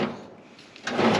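Workshop drawer in a farrier's shop sliding open or shut, a short rumbling scrape that builds louder toward the end, close by with no talk.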